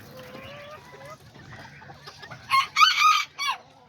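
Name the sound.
small chickens, hen and rooster, clucking and crowing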